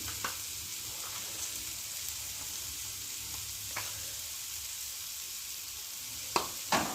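Pea filling for kachori, seasoned with salt, fries in hot oil with a steady, close crackling sizzle throughout, broken by a few sharp clicks of a stirring spoon against the pan.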